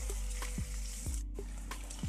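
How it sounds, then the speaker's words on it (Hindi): Onion, green chilli and turmeric sauté in a pan for garlic and coriander potatoes, giving a soft, steady sizzle with a few light stirring clicks close by. "थोड़ा सा इसको भून लेंगे"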